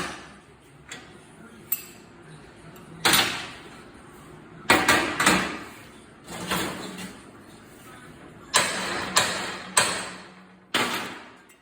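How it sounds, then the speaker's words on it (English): Sharp metallic strikes ring out irregularly, some in quick pairs, each decaying briefly against a quiet workshop background. "you hit that with that hammer out a little bit too"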